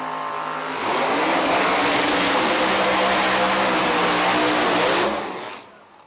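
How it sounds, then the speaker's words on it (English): A drag racing car in a bottle-versus-blower grudge race roars through a loud, sustained burnout, the engine note holding steady and strong for several seconds before cutting off and fading. "Chuck Walsh trying to make a statement there with the burnout"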